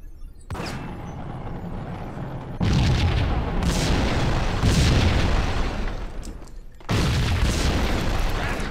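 A building packed with explosives blows up in the video game Max Payne, a series of loud deep booms and rumbling blasts in close succession, with sharp onsets and heavy low-end roar between them.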